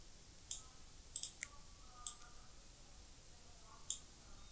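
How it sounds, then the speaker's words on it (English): Computer mouse clicks while working in Offeo design software: a handful of faint, sharp clicks, some in a quick pair, spaced irregularly over a quiet background. "you can simply do it by simply clicking this button"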